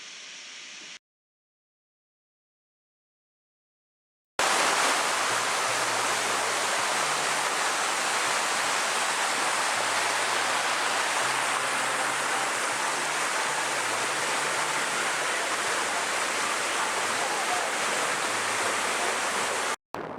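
Waterfall in Myanmar, a steady broadband rush of falling water that holds constant and close for most of the stretch after a brief quiet start, with no voices over it.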